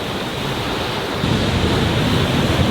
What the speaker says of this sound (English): that's just the waves crashing along the rocks, and that causes a huge echo